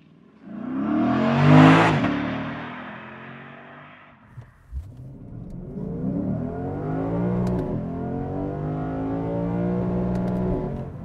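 A Lexus IS 500 with its V8 launches from a standstill and accelerates hard. A loud rising engine roar builds, dips briefly at a shift, then climbs again in steady harmonic revs, with no talking.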